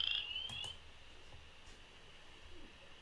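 Frogs of early spring call from a distance in a soft, continuous outdoor chorus, with a faint high trilling band running steadily beneath a few brief louder chirps.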